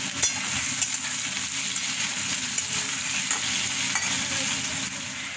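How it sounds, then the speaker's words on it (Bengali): Potato pieces frying together with onions in a pan, a continuous near sizzle broken by occasional spatula scrapes and small clinks, with no talking. "আলুটা ভাজা ভাজা হলে তারপরে মশলাটা দেবো।"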